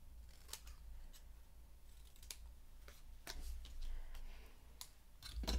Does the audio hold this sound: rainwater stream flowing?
no